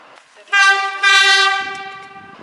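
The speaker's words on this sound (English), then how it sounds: "Engine driver sounds horn as the train approaches a trestle bridge" A loud, sustained train horn blasts close by, rich and harmonic, swelling twice in strength before tapering off as it holds its note.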